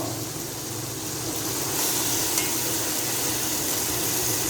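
Onions sizzling in a hot pan while bhindi masala cooks, a steady broadband frying hiss that swells slightly partway through, close and even with no talk over it.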